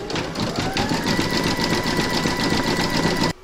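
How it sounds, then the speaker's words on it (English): An embroidery sewing machine stitches a zigzag round on a hooped snow globe design, a loud, close, fast rhythmic whirring and tapping that runs steadily and then stops abruptly. "Pop your hoop back into your machine and stitch round number five, and that's going to zigzag along this edge."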